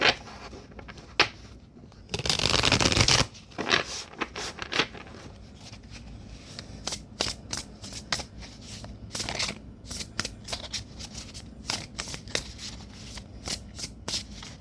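Tarot cards shuffled alone at close range, with a dense riffling burst early on followed by a long run of quick, uneven card slaps and flicks.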